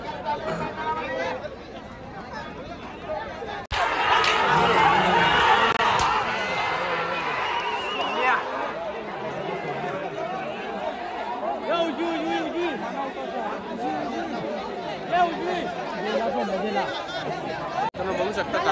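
Large crowd chattering at a bullock cart race, a dense outdoor babble of many voices that swells louder early on, with occasional shouts and thumps, continuing throughout.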